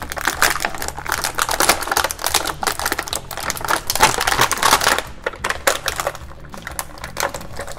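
Plastic blister packaging of a WWE Kane Elite Survivor Series action figure being pried open, with dense, continuous crackling, crinkling and snapping close up, loud and unbroken, with no talking.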